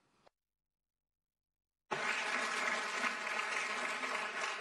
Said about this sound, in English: as you can hear from the rounds of applause here